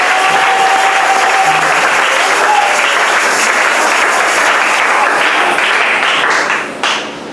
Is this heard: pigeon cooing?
no